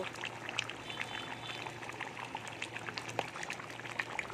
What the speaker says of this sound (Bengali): এই দেখুন কত সুন্দর একদম টকবক করে ফুটছে